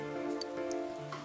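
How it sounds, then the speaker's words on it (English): Steady rainfall in the video game Persona 4 Golden, a soft continuous patter with faint tonal game music beneath and no speech. "Good thing it looks like the rain will keep up all night."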